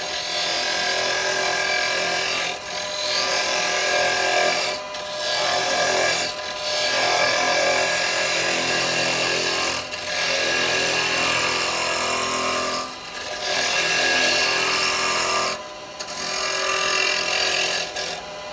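Steady cutting noise from a 12mm round woodturning gouge on wood spinning on a lathe while turning a candlestick, a continuous broadband rasp with brief dips every few seconds, loud and close throughout.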